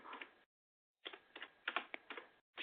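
Rapid clusters of keystrokes on a computer keyboard, close and clear, typed in short bursts with a brief pause between them and no talking.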